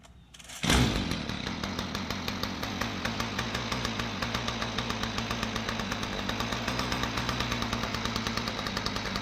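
A Stihl FS 55 RC string trimmer on half choke fires up abruptly after a moment of quiet, then runs steadily up close with a rapid, rhythmic two-stroke putter that stays even to the end.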